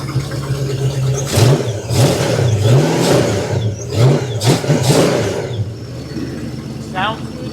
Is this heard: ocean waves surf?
no